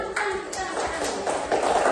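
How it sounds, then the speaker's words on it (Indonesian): A group of children claps their hands in quick, busy bursts, a lively patter of many small hands filling the room. "tepuk tangan"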